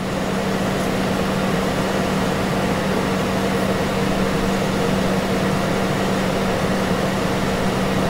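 A small electric heater powered by a Bluetti 1500 Wh power station gives a steady, unbroken whirring hum with a fixed low tone, close and even throughout.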